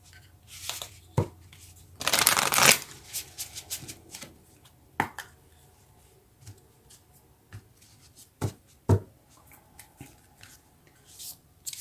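Moonology oracle cards are riffled in a brief, dense burst, followed by scattered soft taps and flicks as the cards are handled and laid down, set against a quiet background.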